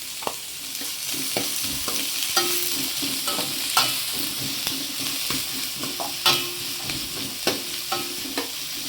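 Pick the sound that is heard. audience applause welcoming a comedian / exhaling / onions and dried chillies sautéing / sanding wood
onions and dried chillies sautéing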